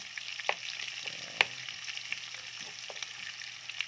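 Onions fry in a pan with a steady soft sizzle, broken by occasional clinks and scrapes of stirring, close and moderately quiet with no talk.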